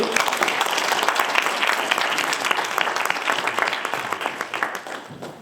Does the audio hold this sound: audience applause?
yes